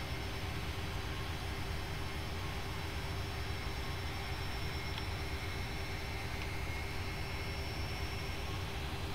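Captain Sim Boeing 757-200 airliner jet engines throttling up in Flight Simulator X, a steady, loud, broad roar that holds unbroken throughout with no voices.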